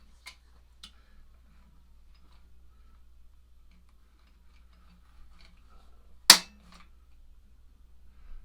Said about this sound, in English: let's do a couple pulls with the trigger pull gauge and see what we're looking at now